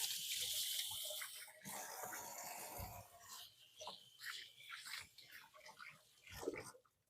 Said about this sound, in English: let me give my hands a quick wash